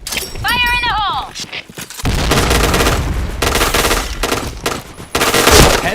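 Loud, rapid bursts of gunfire ring out in a shooting video game, some long and some short. Early on there is a brief rising electronic tone, and voices come through between the shots.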